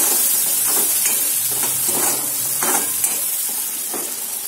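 Tomatoes are being stirred into a sizzling masala in a pan for methi rassa bhaji, with a steady frying hiss broken by several soft, rhythmic scraping strokes of the spoon.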